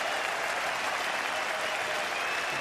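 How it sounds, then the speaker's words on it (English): Sustained applause from a cricket crowd, steady and dense throughout, a broad wash of clapping at moderate distance with no pauses. "The crowd will clap"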